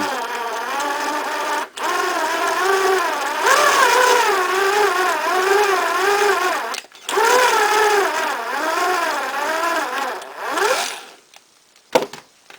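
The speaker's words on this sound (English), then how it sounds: "And then you'll drill a beautiful hole without any cracks." A power drill whines steadily at close range, its pitch rising and falling as it cuts a hole in plexiglass, with brief stops before it winds down.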